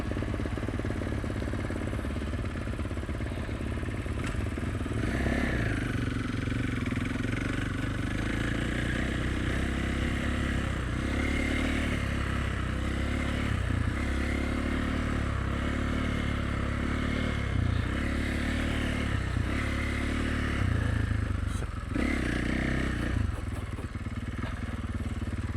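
A Kawasaki 450 dirt bike engine revs in sand, rising and falling in repeated surges against a steady rumble. The sound is moderately loud and continues throughout with no voices.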